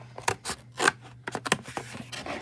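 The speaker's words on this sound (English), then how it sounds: "And I'm just going to cut." Scissors snip around the edge of a paper plate, cutting a ring from it, with a series of crisp, irregular close-up snips and crunches of paper, loud and alone with no voices.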